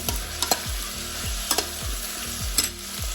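Potatoes added to a hot pan for Cypriot turlu seasonal stew sizzle steadily, with repeated scraping stirs about once a second and occasional clinks of the utensil.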